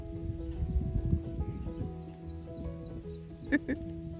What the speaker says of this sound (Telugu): వీరేంద్ర ఈ మేకలన్నీ కారు ఎక్కుదాం